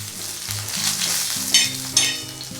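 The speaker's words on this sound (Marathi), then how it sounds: "छान असं हलवत हलवत मिरच्या भाजून घ्यायच्या आहेत" Green chillies fry in a spoonful of oil over a low flame, giving a close, loud sizzle with two sharp scraping stirs near the end; no talking.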